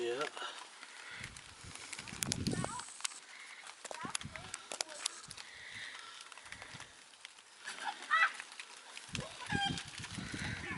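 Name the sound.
escaped chickens clucking in the background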